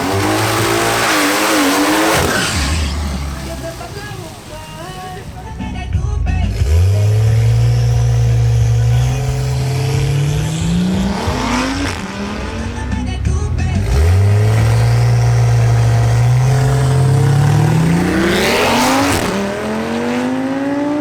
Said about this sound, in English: The next duel is between Maria Estrada in her Audi RS3 and Yerson Roballo's BMW M140i.